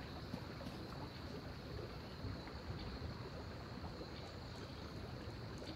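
Steady broadband rush of river water in the Smalland: Survive the Wilds game, a faint continuous wash with no talk.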